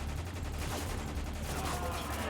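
Dense, continuous gunfire rattles in the shooter game Spec Ops: The Line, loud and unbroken for the whole moment.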